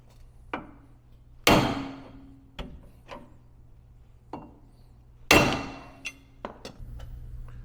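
A hammer strikes the steering knuckle on a Gen 10 Ford F150 front end: a series of sharp metallic blows, two of them much louder and ringing, spaced irregularly with quieter taps between.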